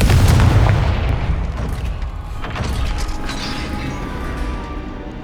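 Confringo spell explosion in Hogwarts Legacy, a loud booming blast at the start that fades into a long rumbling, crackling decay, with no talk.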